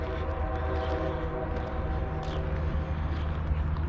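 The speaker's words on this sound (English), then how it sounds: "I actually hear a train coming because trains still run here." A train rumbles in the distance at Harpers Ferry by the Shenandoah River, a low steady drone with faint tonal hum, growing under outdoor ambience as it approaches.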